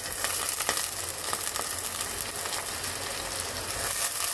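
Thinly sliced potatoes tipped into a pan of fried onions, giving a steady, close hiss of sizzling oil with small crackles and pops throughout.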